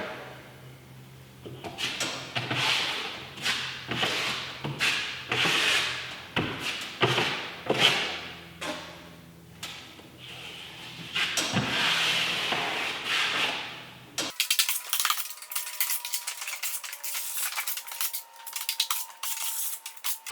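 Joint compound being worked into large drywall seams with a taping knife: repeated scraping and smearing strokes, close and fairly loud, with no talk, ending in a sharper, brighter scraping passage.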